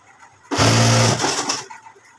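A sewing machine stitches a quarter-inch seam joining the lining to the main piece of an aari-work blouse, one loud close burst of about a second that trails off into softer whirring.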